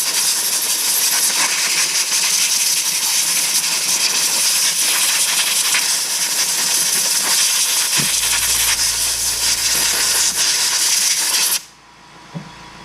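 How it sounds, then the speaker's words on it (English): Compressed air blasts steadily and loudly through disassembled differential parts from a Tekno EB48 2.0 RC buggy, a continuous broadband hiss lasting about eleven seconds before cutting off abruptly into quiet room tone with a small knock. "And then what I do is I take the compressed air,"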